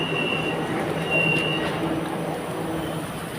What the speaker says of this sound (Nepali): ल हाम्रो रेल चाहिँ आइपुगेको अवस्था